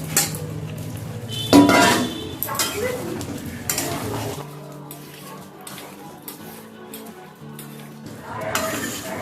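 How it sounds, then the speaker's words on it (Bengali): Potatoes are stirred into a simmering Indian-style chicken curry in a pot. A metal spoon clanks and scrapes against the pot in close, irregular strokes, with a soft sizzle and occasional voice in the background. "আলুগুলো নেড়ে ছেড়ে আমি আরো কিছুক্ষণ এটা ঢেকে রাখবো।"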